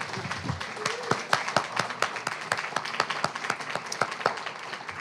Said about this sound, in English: One more big round of applause for Vievee and Matthew.